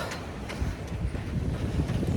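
Gusty wind buffets the microphone with a low, rushing roar that rises and falls, steady throughout with no other clear sounds.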